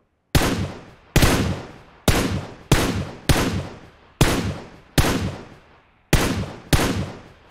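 Ten loud, close single shots in PUBG Mobile fire at a steady, unhurried pace, each with a sharp crack and a decaying tail, with no speech.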